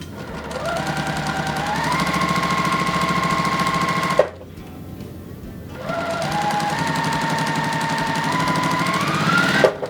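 Sewing machine joining fabric pieces, a loud, steady motor whir that rises in pitch, stops briefly, then runs again.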